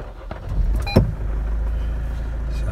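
A car engine is restarted after stalling: a sharp click and a brief cranking burst, then the engine settles into a steady, close idle rumble with no one speaking.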